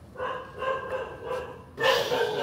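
A trapped dog gives short strained barks and whines under a steady hiss of background noise, the sound getting louder toward the end.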